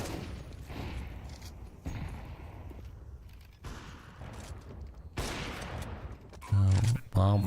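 Gunshots in a competitive first-person shooter match, with sporadic loud shots and bursts that grow heavier near the end, under a steady bed of game ambience and caster commentary.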